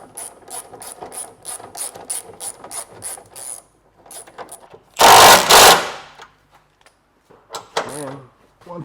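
A ratchet clicks in a quick even series while snugging up subframe bolts on a Honda Element, then pauses. A loud burst of rattling metal follows, then scattered clunks and handling noises.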